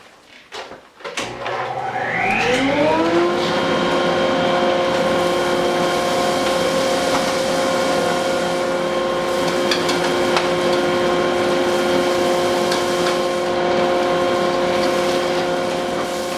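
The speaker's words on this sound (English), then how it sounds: "I've got the lathe spinning at 100 RPMs" A wood lathe spins at 100 RPM while turning a resin holder made from shop towels. A continuous, loud mechanical drone with steady tonal whine rises in pitch as it spins up, then holds constant without talk.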